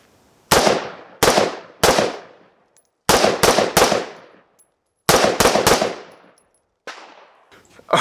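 A rifle topped with a Primary Arms 1-6x24mm scope fires in quick multi-target strings: nine loud, close cracks in three groups of three, each with a short ringing decay, and a few distant shots trailing at the end.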